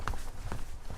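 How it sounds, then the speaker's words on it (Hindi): A few soft, dull footsteps outside a room at night, evenly spaced and muffled as if heard through a door. "स्वप्निल को किसी की चलने की आवाज सुनाई दी।"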